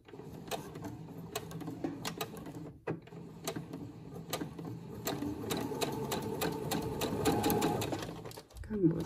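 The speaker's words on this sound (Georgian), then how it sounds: "დავიწყოთ კერვა. ვაკეთებთ წინდა უკან სვლას." Sewing machine stitching fabric, a fast steady mechanical whirr with rapid needle ticking that runs nearly throughout, briefly pausing, close and clear.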